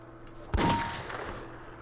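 A single Desert Eagle pistol shot in a video game: one sharp, loud report with a short ringing tail over steady background game noise.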